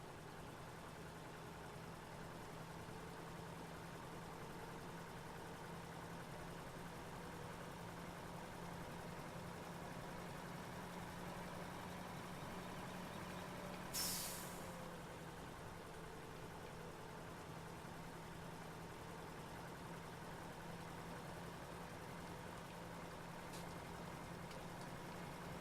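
A truck and trailer in Farming Simulator 17 idles with a steady, low, faint engine drone throughout, and one short sharp noise cuts in midway. Nobody speaks.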